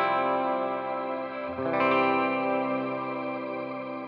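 Lush shimmer reverb from a Mr. Black Stereo Wet Reverb pedal with its Shimmer knob cranked, a sustained guitar chord swelling midway into bright, octave-up shimmering tails that ring on steadily with no talking.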